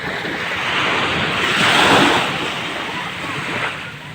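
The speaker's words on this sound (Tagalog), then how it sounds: "Ay sarap pakinggan yung alon." Ocean waves washing onto a shore with a fishing boat and dragon boat offshore, a broad continuous rush that swells and recedes over a few seconds, mixed with wind buffeting the microphone.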